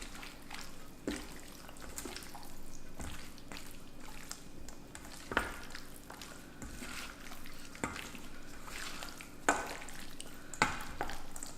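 Seafood poke of wahoo and yellowfin tuna being tossed together, soft wet stirring and squelching with occasional light clicks of a utensil against the bowl, close and fairly quiet.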